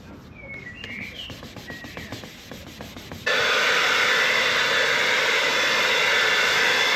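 Dry sanding of a freshly sprayed, fully dried base coat of aerosol car paint with 800 grit sandpaper, a close, steady scratchy rubbing that starts in short strokes and then turns into a loud, continuous hiss.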